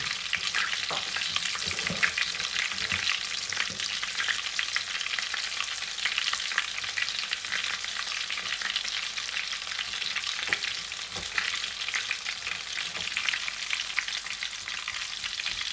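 Chicken hot rods, KFC style, deep frying in hot oil, giving a steady, loud, dense crackling sizzle with small pops, close up and without talk.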